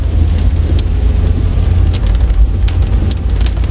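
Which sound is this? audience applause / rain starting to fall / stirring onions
rain starting to fall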